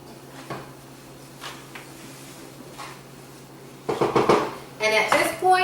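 Black quinoa stirred into a mixture in a pot, faint scrapes over a low hum at first, then louder clattering and clinking of utensil against the pot in the last two seconds.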